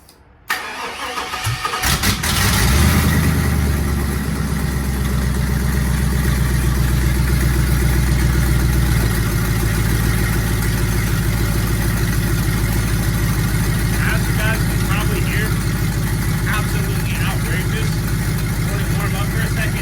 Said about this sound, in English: We'll get the final startup with the top mount for you guys.